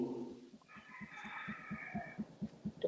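A rooster crows near and loud, with a long, bright, strained call stretched across the middle, while low clucking pulses tick steadily underneath from other fowl nearby.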